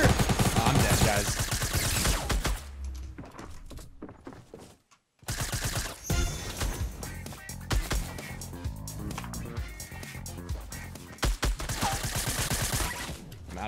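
Rapid bursts of automatic gunfire crackle loud and close in a Fortnite Battle Royale match, dense volleys filling nearly the whole stretch with only a brief silent gap.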